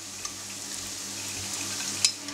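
Tofu fries in a pan with a steady, close sizzle and crackle, punctuated by a few light clicks and scrapes of stirring.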